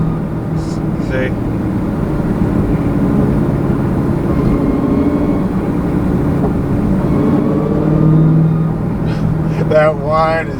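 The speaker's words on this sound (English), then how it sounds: "it goes silent when you let off the gas, and then starts whining again right when you get on the gas" A supercharged 2016 Dodge Challenger Hellcat with a six-speed manual whines steadily as it accelerates, the drone cutting briefly when the throttle lifts and rising again, all heard from inside the cabin beneath a voice.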